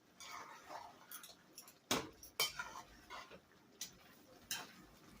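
Rice is stirred in a pot as a spoon scrapes and knocks against the metal, making several sharp clinks and scrapes spread irregularly over a quiet background.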